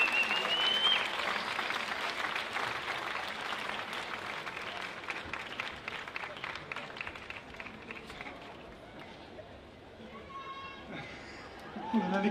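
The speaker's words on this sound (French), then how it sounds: "Oh oui, vous pouvez l'applaudir." An outdoor festival crowd at the opening of the Aurillac street theatre festival breaks into sustained, dense applause that fades gradually, with cheers and chatter mixed in and a few voices near the end.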